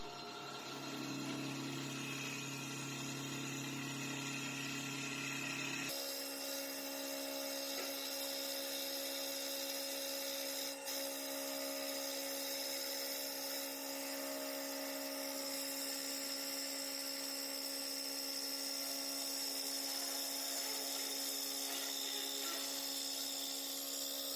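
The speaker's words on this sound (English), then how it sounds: "the grinding wheel will pop out and grind" A grinding wheel on a CNC lathe spins up and grinds during turning, giving a steady high-pitched whine that shifts in tone partway through and holds evenly, with no talking.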